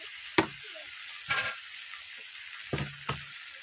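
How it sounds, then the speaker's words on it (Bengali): Malabar spinach stems, flat beans and potatoes fry in a wok, a steady high sizzle running underneath four distinct scraping stirs spaced a second or so apart, close and without speech. "এবার আমি পুঁই মিটুলি, শিম আলু এগুলো একটু ভেজে নেবো।"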